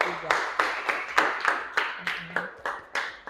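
A class claps for a student group presenting during a teacher performance assessment, with a steady, fairly sparse run of about a dozen distinct claps spaced roughly a quarter second apart. Faint voices murmur underneath.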